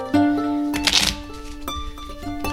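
Playing cards are shuffled during a magic performance, heard as a crisp, fluttering riffle with sharp snaps over a sustained musical hum.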